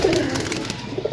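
Pigeons on a rooftop coo in low, soft, throaty murmurs, close by and repeating over a second or so, with no voices.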